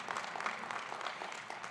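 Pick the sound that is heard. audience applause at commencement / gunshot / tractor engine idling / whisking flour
audience applause at commencement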